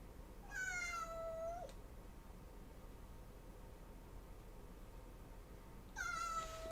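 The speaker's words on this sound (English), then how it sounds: "Kitty, now what do you want? You keep meowing at me" A house cat meows twice, close and clear, each a drawn-out call with a falling pitch, separated by several seconds of quiet room hiss and no talking.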